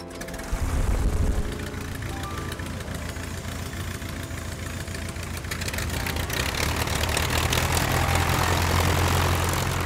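A classic propeller aircraft drones steadily at a historic aircraft and classic car event. The engine sound is loud and sustained, swells partway through, and carries a low rumble throughout with no talking.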